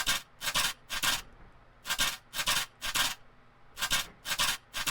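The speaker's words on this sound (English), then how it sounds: "when you take a growl sound like this" Harsh, noisy synth growl bass in short rhythmic bursts, grouped in threes with brief gaps, gritty and almost toneless like filtered white noise.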